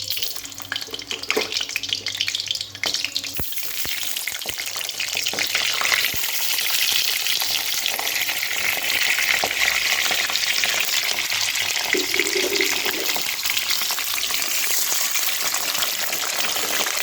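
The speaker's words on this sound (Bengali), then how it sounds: "আমি আগে পটলগুলো ভালো করে ভেজে উঠিয়ে নিই" Pieces of pointed gourd (potol) fry in oil, a loud, dense, continuous sizzle with crackling spits throughout and occasional scraping stirs, heard close with no talk.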